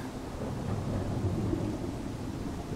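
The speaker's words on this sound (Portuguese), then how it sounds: "Muita chuva." Heavy rain and rumbling thunder in the survival video game Smalland: Survive the Wilds form a steady, low, dense wash of storm noise with no speech.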